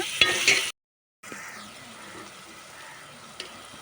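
Chopped tomatoes go into a hot pan of onions for a mutton ridge gourd curry, a bright stirring sizzle, then a brief gap and a quieter, steady frying hiss close by.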